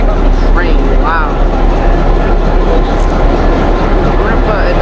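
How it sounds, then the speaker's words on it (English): A train at the Fort Worth Stockyards rumbles loudly and steadily, with a broad, continuous roar and faint squealing tones rising over it, heard close by without any speech. "let's go over here and let's check the train"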